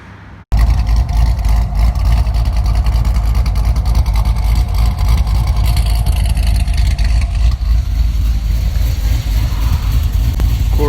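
Naturally aspirated Chevrolet Corvette C6 with an LS3 V8, roll bar and racing seats, driving hard from inside the cabin: a loud, steady engine roar runs continuously after a brief quiet start, with no talking.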